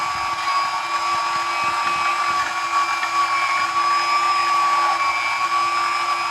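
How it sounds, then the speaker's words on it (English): A meat grinder works through frozen chicken for homemade sausage, giving a continuous high-pitched motor whine with a steady tone, loud and close, with faint grinding rattle underneath and no talk. "let you guys take a break from the grinding noise, and when I get done grinding this, we'll be back."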